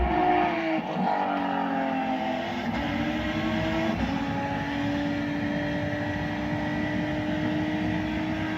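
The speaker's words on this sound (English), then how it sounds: "Zeely brought his highly modified Toyota MR2 home in" A highly modified Toyota MR2 racing, its engine a steady sustained drone with shifting pitch lines as it holds speed, loud and continuous throughout with no talk.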